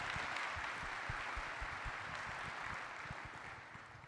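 At the 2021 Oklahoma Hall of Fame induction ceremony, a large audience claps in a soft, distant, continuous patter, with a few sharper claps standing out as it gradually tapers off.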